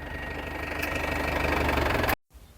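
A tractor engine runs with a steady, slightly knocking throb in a farm field, then cuts off abruptly near the end.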